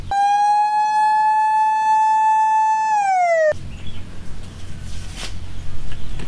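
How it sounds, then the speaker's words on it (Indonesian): An ambulance siren sounds as a loud, steady electronic tone that holds for about three seconds, then slides downward and cuts off abruptly, followed by a quieter background. "Wow, ada mobil ambulan, teman-teman."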